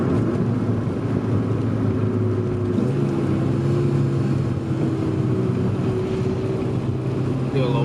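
A lowered 2000 Honda Civic Si engine drones and shifts pitch through downshifts, a loud continuous rumble from inside the car with a voice faintly underneath.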